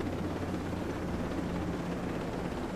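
A helicopter in the video game Ghost Recon: Breakpoint gives a loud, continuous rotor drone with a low rumbling hum that holds steady throughout, with no voices.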